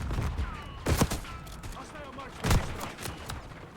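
Rapid bursts of gunfire in Call of Duty: Black Ops 6, two louder volleys standing out over constant game noise, with a player talking over the action.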